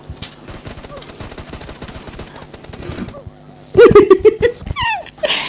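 Rapid bursts of gunfire from the video game PUBG Mobile crackle in quick repeated shots, then a voice breaks in loudly over the game sounds.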